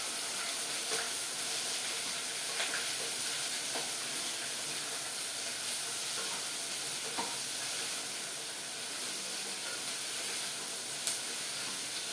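Onions and green chillies frying in a pan for ghee rice, a steady broad sizzle and hiss with occasional faint clicks of stirring, even and unbroken throughout.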